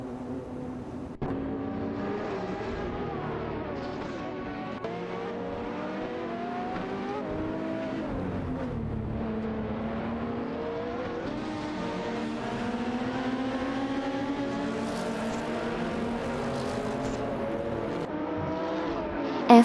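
Peugeot 908 and Toyota GT1 race cars scream continuously through a video game race, engines rising and falling as they shift and contest position, several cars layered close together with no talking.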